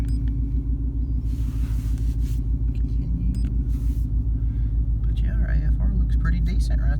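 A 2017 Ford Mustang 5.0 V8 with a new JLT cold air intake idles steadily and close by, a deep low rumble running evenly throughout with faint background clicks.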